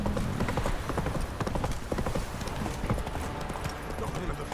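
Hooves of Geralt's horse Roach from The Witcher 3 clip-clop steadily at a trot, loud and close, over a dense game soundscape with ambient noise throughout.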